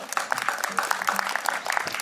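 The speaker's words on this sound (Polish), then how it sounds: "Wielkie brawa." Villagers applaud prize-winning harvest wreaths at a Polish municipal harvest festival, brisk close clapping from a small crowd with a voice faintly present underneath.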